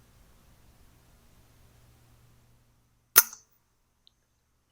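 A single sharp crack from an FX Dreamline .22 air rifle fired at a squirrel by a backyard feeder, loud and close, with a short tail and quiet before and after.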